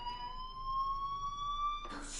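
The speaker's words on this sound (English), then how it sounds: "Hey, do you hear that fire alarm? That means you should be outside." Inside the video game Life is Strange, a fire alarm sounds a steady, piercing electronic tone that holds loud and continuous, then breaks into a harsher burst of noise at the end.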